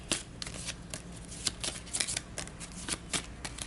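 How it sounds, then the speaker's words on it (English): A deck of cards for the Sentinels of the Multiverse board game gets a quick shuffle, giving repeated crisp riffling bursts at an uneven, rapid rhythm, close and moderately loud, with no talking. "Give it a quick crappy shuffle."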